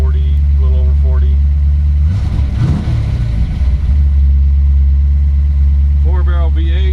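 A 1932 Ford coupe's 351 V8 with a 4-barrel carburetor runs at a loud, steady idle close by, its low rumble constant while someone talks over it.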